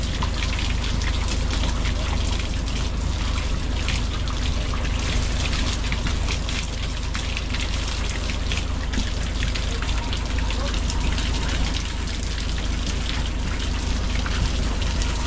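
Shower water pours steadily while someone bathes on Bucas Grande Island, a dense, close hiss of spray and splashing droplets running without pause.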